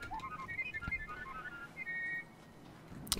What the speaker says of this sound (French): ils ont même inventé des robots qui sifflent dans le futur